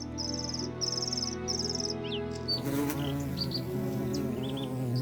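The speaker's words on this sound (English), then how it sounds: "Blooming willow catkins are many insects' seasonal favourite." Many insects hum around blooming willow catkins in the Dutch wild, a layered close buzz of several tones, with faint chirps and bird calls above.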